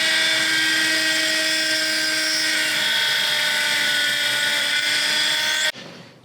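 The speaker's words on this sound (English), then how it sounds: "touch the pearl, drill a little hole" A handheld drill bores a small hole into a pearl at home, giving a loud, steady high-pitched whine with a shrill tonal edge that holds for about six seconds before cutting off abruptly.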